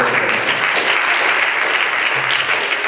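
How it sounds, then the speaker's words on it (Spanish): A church congregation gives loud, sustained applause, dense overlapping clapping filling the room evenly throughout. "Dale un fuerte aplauso al Señor."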